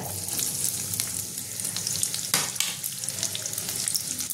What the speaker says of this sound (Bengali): এবার আমি সবজিগুলো একটু ভেজে নেব। প্রথমে দিয়ে দেবো পেঁয়াজ কুচিটা